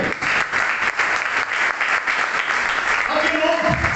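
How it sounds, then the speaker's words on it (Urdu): A church congregation claps together at a Pentecost sermon, a steady dense wash of applause held loud throughout, with a voice and a low sound rising near the end. "ایک بار روح القدس کے لیے تالیاں بجائیے."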